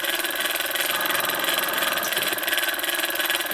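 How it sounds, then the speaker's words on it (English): A small Bowman M158 model steam engine runs on compressed air at about 7 psi, giving a steady, fast mechanical chuffing hum with fine rapid pulsing, close and continuous throughout. "Nice little engine."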